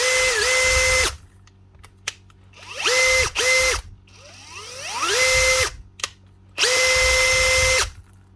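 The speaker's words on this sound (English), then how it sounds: "And a wee stealthy black Makita drill." A small repaired Makita DHP483 compact cordless drill whirs in four bursts of varying length, revving up and winding down between runs, with quiet mechanical clicks in the pauses.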